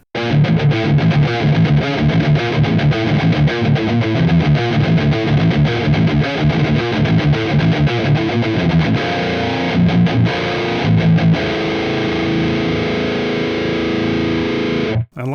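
Heavily distorted electric guitar played through a Two Notes Genome rig with 6L6 power tubes, a thick, loud sustained riff with chugging rhythmic chords, no talking.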